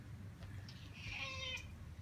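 A cat meows once, a drawn-out, fairly faint cry near a Great Dane puppy trying to win her over, with low room rumble underneath and no talking.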